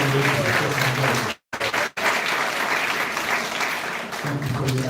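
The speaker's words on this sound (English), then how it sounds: "Please give a round of applause for all three of the candidates." An audience at a township board meeting claps steadily for candidates, briefly cut off by a short gap, then the applause carries on; a voice can be heard faintly at the edges.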